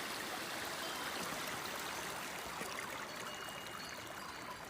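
Mountain stream water rushing steadily alongside a hiking trail in the Italian Alps, a continuous broadband wash close by and even in loudness, with no voices.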